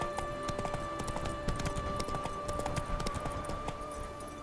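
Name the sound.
horse hooves galloping in video game The Witcher 3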